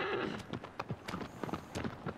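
Hooves of a horse in Shadow of the Colossus on PS4 clip-clop in an uneven trotting rhythm, fairly close and moderately loud, with no talk over them.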